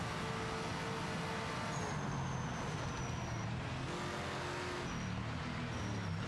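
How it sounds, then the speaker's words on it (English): Engine roar of a rival race car closing in from behind during a Project Motor Racing career-mode race, a steady loud drone of motor and tire noise with faint high whines rising and fading. "So we've got a different car racing up on us"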